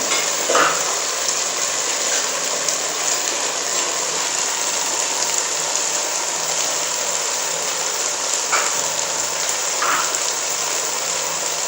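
Chopped cabbage fries in ghee for Chinese rice, giving a loud, even sizzle that carries on unbroken, with a few soft scraping knocks of stirring.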